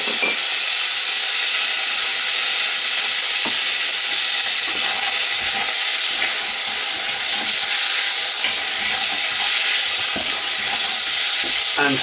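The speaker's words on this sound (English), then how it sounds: "At this stage we add a couple of dashes each of the soy sauce." Sesame beef sizzling loudly in a hot pan as soy sauce goes in, a dense, constant frying hiss with occasional stirring scrapes and clicks, close and unbroken throughout, no talk.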